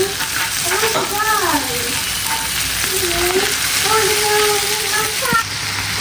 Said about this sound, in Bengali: এখন এই তো ভাজতে থাকবো